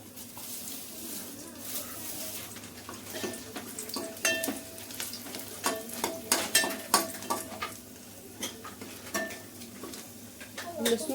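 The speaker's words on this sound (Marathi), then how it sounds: "तेल चांगलं गरम करायचं आणि लसूण सोडायची त्याच्यात" Crushed garlic cloves, skins still on, sizzling in hot oil in a pan, a steady frying hiss broken by sharp spatters and metal clinks from stirring that grow busier and louder midway.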